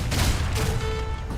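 A volley of grenade blasts thrown by grenadiers in the strategy game Age of Empires 3: Wars of Liberty, heard as a dense, crackling burst of explosions with battle noise continuing behind it.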